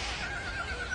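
A horse whinnies in one sustained, fairly loud call lasting about a second, with no voices over it.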